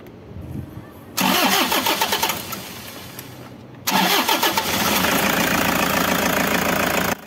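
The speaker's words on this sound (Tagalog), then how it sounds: "pwede mo nang paandarin itong makina para masubukan mo na yung gawa mo kung aandar ba yan" A Toyota Hi-Ace engine cranks and catches around the one-second mark, runs briefly, then cuts out before a second start near four seconds fires it into a steady, loud idle that continues to the end.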